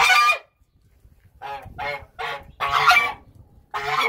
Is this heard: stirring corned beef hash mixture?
no